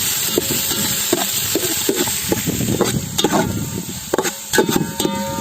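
Onions and whole spices fry in sunflower oil in an outdoor village kitchen, a steady loud sizzle with repeated scraping stir strokes of a ladle against the pan, close and continuous with no talking.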